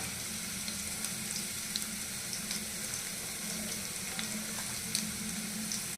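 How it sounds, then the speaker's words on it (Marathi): Green chillies fry quietly in a pan, a soft continuous sizzle with faint crackles and pops scattered throughout, plus a low steady hum underneath. "इथे आपली मिरची फ्राय झालेली आहे।"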